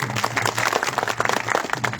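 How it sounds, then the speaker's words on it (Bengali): Audience at a political workers' conference claps and cheers in dense, steady applause lasting the full two seconds, with scattered voices mixed into the crowd noise. "তাদের জন্য আপনারা একটা করতালি দিয়ে হাততালি দেন।"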